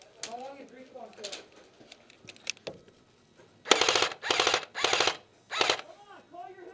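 Airsoft guns fire during a skirmish game: several rapid, loud bursts of full-auto fire in the second half, with people talking before them.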